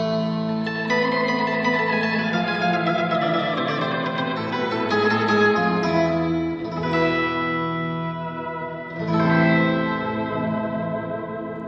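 An electric guitar plays through an EHX Epitome pedal set for an organ-like tone, with sub and upper octaves blended, a Leslie-style swirl and heavy reverb, sounding as sustained chords that shift and swell without talk.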